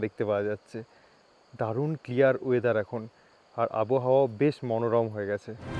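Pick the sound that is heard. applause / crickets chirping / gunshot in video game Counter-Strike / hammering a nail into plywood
crickets chirping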